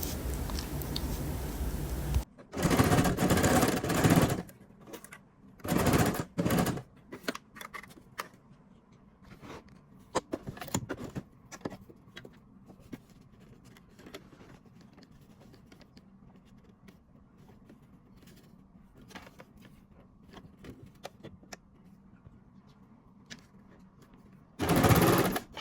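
Sewing machine stitching a men's trouser waistband, running in several short loud bursts of rapid whirring separated by quiet pauses and faint handling clicks.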